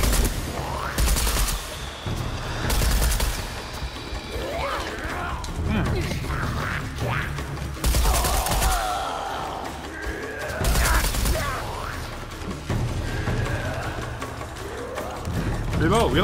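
Assault rifle fire in Shadow of the Tomb Raider, heard as several loud bursts spaced a few seconds apart over a busy bed of game effects and mechanical clicks, with a person talking throughout.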